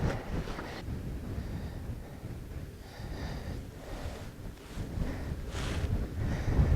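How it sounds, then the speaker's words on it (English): Gusty wind on a hilltop rumbles across the microphone in uneven surges, with low buffeting that rises and falls over several seconds. "Windy up here."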